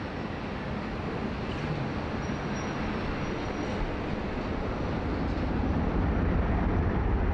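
A Qantas airliner on flight 19 to Manila rolls for takeoff at Sydney Airport, a steady broad engine roar that builds slightly, heard from a distance without talk.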